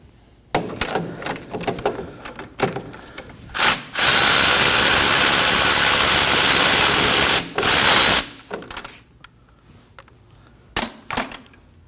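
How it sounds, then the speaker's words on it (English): A power tool driving a 17mm socket to remove a bolt at the steering knuckle of a 2011-2016 Kia Optima: a loud, continuous whirring run of about four seconds, with short bursts before and after and scattered metallic clicks and clanks. "17mm socket, go ahead and take out this bolt."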